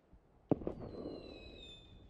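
Grenade explosion in the video game PUBG, a single sharp blast followed by a quick secondary pop and a fading rumbling tail, moderately near.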